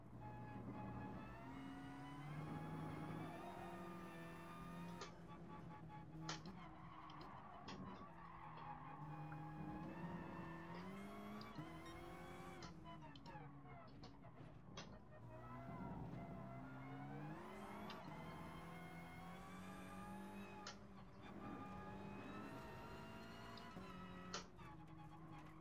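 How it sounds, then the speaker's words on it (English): Simulated Volkswagen Golf GTI in Gran Turismo Sport, with a steady, continuous whine of the gearbox rising and falling over the engine drone, sustained loudly throughout with no talking. "You can mostly hear the gearbox over the engine."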